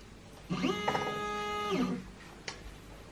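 ShapeOko 3 CNC machine carriage traversing forward, a close stepper-motor whine with a ramped rise, steady tone for about a second, then a falling ramp, followed by a brief click.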